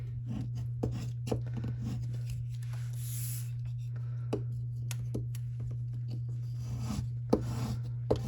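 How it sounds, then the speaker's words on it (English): Vinyl decal being burnished hard through the back side of parchment paper, a soft scraping rub repeated in short strokes, faint and close over a steady low electrical hum. "I get better results if I burnish it on the back side"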